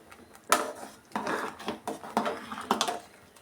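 A spoon stirs tomato bath with ghee in a cooking pot, making a series of separate scraping, clattering strokes against the metal at an uneven rhythm, close and fairly loud, with no talking.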